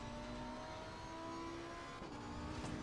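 A race car in Assetto Corsa Competizione pulls hard down a main straight, its engine a steady sustained drone that shifts pitch briefly near the end, with no talk over it.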